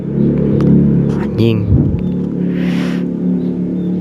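A motorbike passes in a One Piece anime scene, its low engine rumble and rising rev swelling then fading, with voices heard over the vehicle noise.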